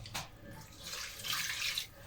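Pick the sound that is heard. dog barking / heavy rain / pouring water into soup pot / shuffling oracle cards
pouring water into soup pot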